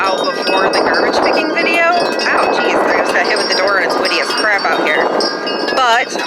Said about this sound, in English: it's windy as crap out here